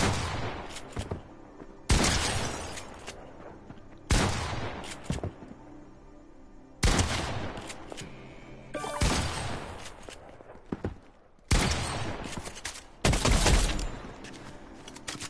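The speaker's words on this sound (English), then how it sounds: "You can kind of just test out your aim with the shotguns." Shotgun blasts in Fortnite, about seven loud booming shots at irregular intervals of one to two seconds, each with a short decaying tail.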